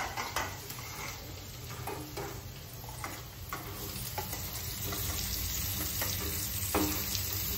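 Onion and green chillies sizzling in hot oil as a tempering for dal, a continuous moderate crackle broken by repeated utensil clinks and stirring scrapes against the pot.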